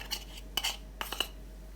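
A spoon mixing a thick paste of oil, maida and cornflour in a bowl, with a few quick light scrapes and clinks in short bursts against a quiet background.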